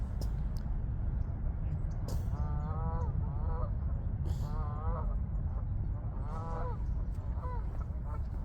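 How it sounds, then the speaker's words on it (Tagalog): Swans in a park give repeated nasal honks in short bursts, a whole family calling over steady outdoor background noise, fairly close and moderately loud. "Hindi po yan duck, kundi mga swan po yan."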